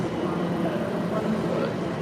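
Train pulling into London Liverpool Street station, a low steady rumble under the echoing hum of a busy concourse, with voices nearby.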